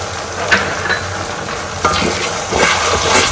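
Chicken curry sizzles loudly in a pan as cashew paste goes in, with steady frying hiss and bursts of stirring and splashing.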